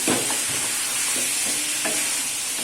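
Chicken pieces fry loudly in a karahi for highway-style chicken karahi, a dense close sizzle with several quick stirring scrapes through it, no voices.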